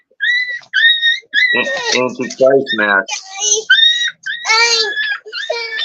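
High whiny yelps and whimpers from puppies, in short repeated bursts close by, interleaved with a person speaking.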